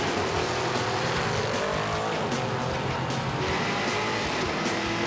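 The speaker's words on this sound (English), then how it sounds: "You see him banging through those gears?" A 1988 Mustang with a stick shift drag races down the strip, its engine roaring loudly and continuously as it climbs through gears, with rising pitch sweeps and a busy crowd-and-track wash around it.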